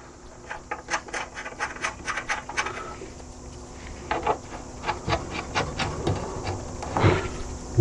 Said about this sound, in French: on va déjà commencer par remettre les 4 vis qui tiennent le phare